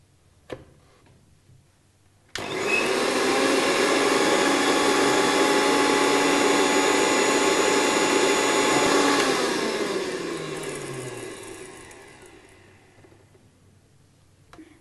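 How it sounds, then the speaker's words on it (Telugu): An electric mixer grinder whirring loudly at steady speed as it grinds coconut, coriander, cumin, dried chillies and pepper into masala, starting abruptly after a click and slowly winding down toward the end. "ఇప్పుడు దీన్ని మిక్సీ చేసుకోవాలి"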